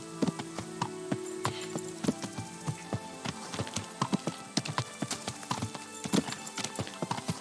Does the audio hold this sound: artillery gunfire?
no